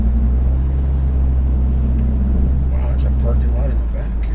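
A Ford F650 crew cab dump truck pulling a trailer rolls slowly along city streets looking for parking, its deep steady engine rumble loud and close throughout, with someone talking over it.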